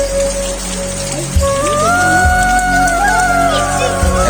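Rain falls steadily at Taherpur's Boro Chhora, a constant hiss under a droning tonal whine that rises midway and holds, with a few low thumps.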